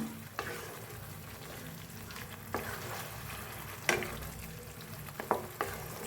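Quiet sizzling of chicken masala in a pan with a few sharp scrapes and taps of a spoon stirring, spaced irregularly and fairly faint.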